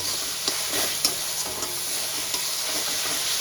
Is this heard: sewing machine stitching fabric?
no